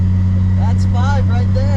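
A Toyota Supra engine hums loud and close at idle-like steady drone while gears are shifted through a short throw shifter, with a person speaking over it.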